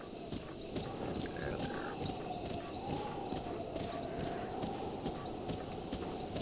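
A horse in the video game Zelda Breath of the Wild trots across the ground, its hooves clopping in a quick steady rhythm over a dense wash of game ambience, with a faint voice in places.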